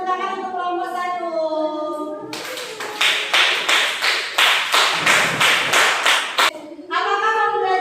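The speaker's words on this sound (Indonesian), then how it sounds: "Beri tepuk tangan untuk kelompok 1." A grade 6 classroom bursts into applause for group 1: a few seconds of loud, dense clapping with rhythmic pulses, set between stretches of a teacher talking.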